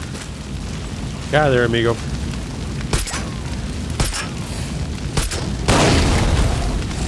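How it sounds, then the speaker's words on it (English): Gasoline blown up in the video game Far Cry 6, heard as several sharp booming bursts spread across the clip, the loudest near the end, with a character's voice speaking over the game sounds. "Yeah, let's blow this up."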